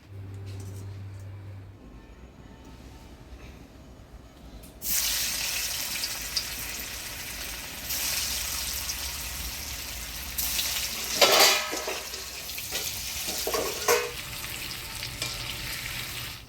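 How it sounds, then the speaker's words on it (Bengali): Paneer pieces frying in a pan for a village Durga Puja meal: after a quiet start, a loud, steady sizzle sets in and holds to the end, with brief louder bursts of stirring and splashing. "অর্ধেকটা পনিরটা কাটিয়ে দিলাম এবারে ভাজে নেবো"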